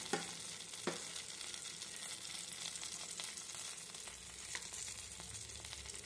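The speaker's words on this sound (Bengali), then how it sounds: "এরকম করে খুব সুন্দর করে পুরগুলো ভরে ফ্রাই করে নিতে হবে" Capsicums stuffed with a filling fry in a pan with a steady, faint sizzle that carries on throughout, with a few soft knocks near the start.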